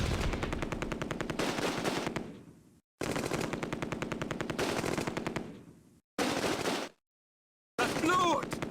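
Rapid machine-gun bursts fire in long sustained volleys in the World War II tactics game Close Combat: A Bridge Too Far, set at Nijmegen bridge, each burst cutting off into silence before the next, loud and close.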